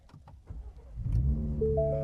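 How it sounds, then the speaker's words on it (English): A starter cranks briefly, then a 2025 Ford F-150 Raptor pickup engine catches and settles into a deep, rumbling idle close by. "Now let's see the startup sequence of the Raptor."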